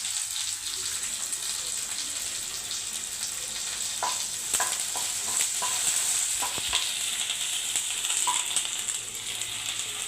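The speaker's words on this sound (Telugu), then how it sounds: "ఇవన్నీ వేసాక ఇందులోకి కరేపాకు కూడా వేసి వేయించుకోవాలి" Curry leaves, cumin and spices fry in hot oil in a pan for an ustikaya roti pachadi, a steady close sizzle with a few light clicks of stirring.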